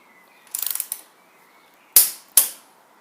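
A torque wrench tightens the front wheel axle on a motorcycle, heard as a quick run of close ratcheting clicks followed by two sharp, loud metallic snaps, with nothing spoken.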